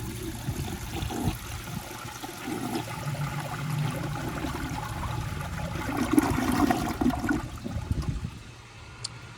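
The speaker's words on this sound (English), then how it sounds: "So I'm gonna flush it on the water line that I guess it was flushed on." A 1977 Universal-Rundle Citation toilet flushes with a steady rushing, gurgling swirl of water that builds, surges louder near the end, then drains and tapers off, heard close with no talking.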